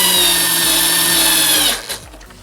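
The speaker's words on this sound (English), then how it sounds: "we're just gonna get the power screwdriver, save us a little bit of time and effort" A power screwdriver drives a screw into a Mercedes W204 C-Class door panel during reassembly. It gives a loud, close, steady whirring buzz for under two seconds, then stops abruptly with a small clunk.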